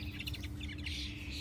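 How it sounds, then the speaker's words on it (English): Robin singing in a garden, a few quick high chirps and warbled notes, faint against a low steady background hum. "It's my robin."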